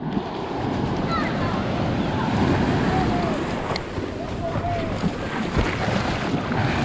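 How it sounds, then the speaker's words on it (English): Large waves roll onto a warm Florida beach, a loud continuous wash of surf mixed with heavy wind buffeting the microphone, with a voice briefly audible. "These waves are huge."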